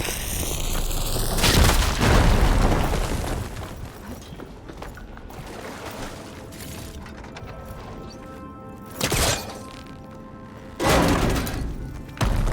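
A fire zone blown up in Horizon Forbidden West, with a loud boom and crash up front fading into rumbling debris, then two shorter bursts of impact later on.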